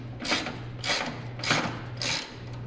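A hand ratchet loosening a 13 mm bolt in the engine bay of a WS6 Trans Am: four evenly spaced bursts of rapid clicking, close and moderately loud, over a low steady hum.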